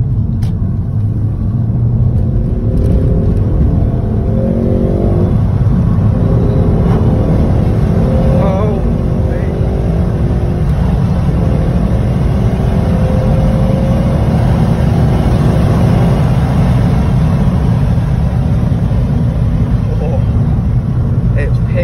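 A 270 bhp Ford Focus ST accelerating hard, its engine a loud, continuous low drone with rising pitch sweeps as it pulls through the gears, heard from inside the cabin with talk over it.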